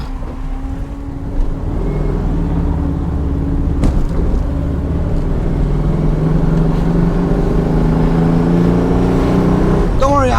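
A 1968 VW Type 3 drives at highway speed with a steady engine drone and road roar, loud and close from inside the car, with a brief bump partway through and a faint voice underneath.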